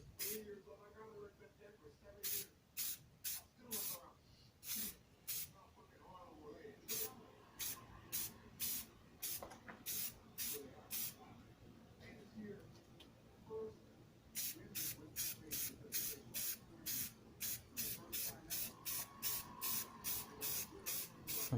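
Repeated bursts of spray from an aerosol can, short hisses in uneven runs that grow quicker and more regular toward the end, heard close.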